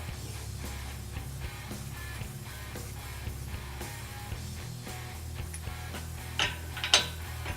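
A nut is undone on the hinge of a self-closing gate kit, giving a run of rapid ratcheting clicks that repeat steadily at close range, ending with a couple of sharper metallic knocks.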